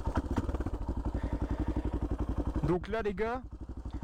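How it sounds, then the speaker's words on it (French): A 1992 Yamaha XT 600 motorcycle idles through a Leovince X3 exhaust with the baffle removed. It gives a loud, steady, rapid thumping beat with no pause, and someone talks over it partway through. "le silencieux est sans la chicane"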